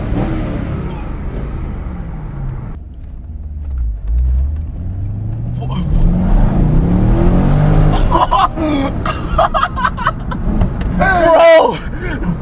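A wrecked C5 Corvette with no front bumper, its engine droning and revving as heard from inside the cabin while it drives, steady and loud, with voices talking over it.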